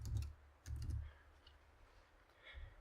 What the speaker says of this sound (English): I'm just going to type in the message world.